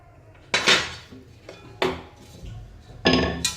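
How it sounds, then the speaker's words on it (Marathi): Metal clatters in a kitchen as a lid is set on a pot to steam varan phal, three sharp clanks spaced about a second apart, close by and alone. "त्यावर झाकण ठेवायचं आहे आणि 10 मिनटं छान वाफवून घेऊ."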